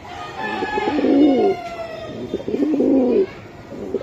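A racing pigeon coos close by in two rolling, throaty phrases, each about a second long, separated by a short pause.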